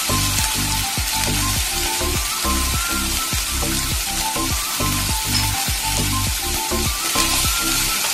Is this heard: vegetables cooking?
yes